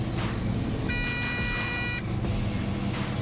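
A heavy vehicle's engine runs at full throttle during a torque converter stall test, a loud constant roar close by with a brief steady electronic beep tone over it midway.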